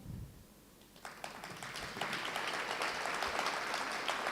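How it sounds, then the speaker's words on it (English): An audience claps hands at the Free State SGB Excellence Awards, a faint scattering of claps that swells after a second into sustained, fairly distant applause that grows fuller and steadier toward the end. "So with that, I want you to clap hands."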